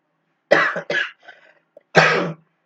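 Several harsh, close coughs in quick succession, a short burst of two, a faint trailing one, then another loud cough.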